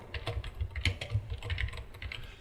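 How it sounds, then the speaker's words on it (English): Clicky keystrokes from a computer keyboard while text is typed into Adobe Premiere Pro CC 2018, a close, steady run of rapid taps over a low background hum, with no voices. "I can type in some text there"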